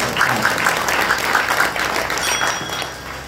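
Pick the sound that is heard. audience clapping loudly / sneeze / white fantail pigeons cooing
audience clapping loudly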